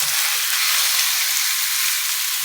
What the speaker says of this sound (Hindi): अभी मैं चिकन टिक्का वाले कबाब बना रही हूँ। इसको अच्छी तरह हम फ्राई करेंगे।